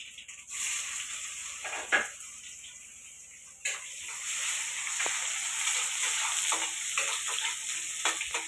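Cumin, curry leaves and onion dropped into hot oil and sizzling, a steady close hiss that flares with sharp crackles as each ingredient lands, then settles into continuous frying.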